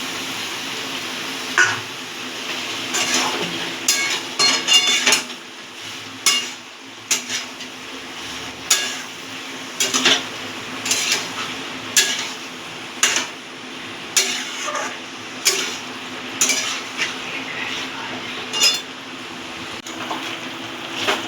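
Boiled soybean chunks being stirred in a pan for soybean kosha, with repeated clanks and scrapes of a spatula against metal in an uneven rhythm, close and without talk.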